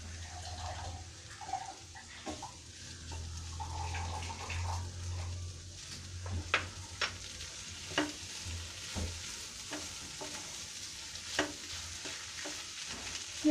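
Squid stir-fries in a pan over a medium flame, giving a soft, steady sizzle broken by repeated scraping and clacking strokes of a spatula that come at irregular intervals.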